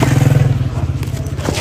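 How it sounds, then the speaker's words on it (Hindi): Motorcycles arrive at an outdoor cricket match with a close, pulsing engine putter that throbs rhythmically throughout and fades slightly toward the end, with no talking. "और ये बाइक वाले आ गए हैं भाई साहब"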